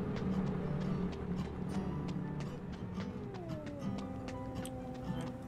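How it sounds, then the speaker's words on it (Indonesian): A cat meows in the Dreadout 2 horror video game, a faint rising and falling cry near the middle of the clip, set against a steady low ambient drone with scattered ticking. "ini ada kucing"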